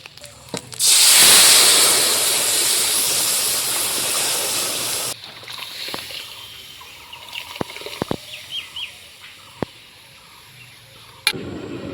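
Dal poured into hot oil with turmeric-tempered spices bursts into a loud, close sizzle that starts suddenly, holds for about four seconds, then drops to a softer crackle with scattered clinks of utensils.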